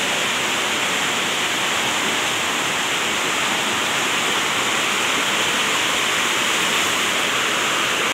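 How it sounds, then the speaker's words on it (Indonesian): The strong current of the Cimandiri river rushes in a steady, loud, broadband roar that stays constant throughout, with no voices. "Arusnya sangat besar sekali sobat. Dan inilah Sungai Cimandiri ya"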